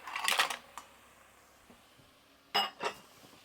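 Mussels and clams clatter into a metal pan for a cacciucco seafood stew, two bursts of hard shell clinks and rattles separated by a quiet pause, close and crisp.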